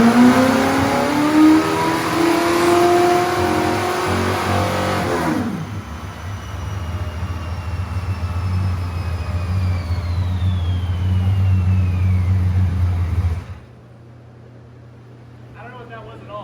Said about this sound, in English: I think that was all wheel spin.